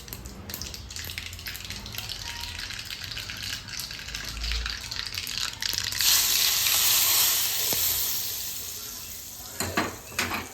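Spices hiss and sizzle in hot oil as a tempering for chutney, the sizzle swelling into a loud rushing burst midway, with utensil clinks against the pan.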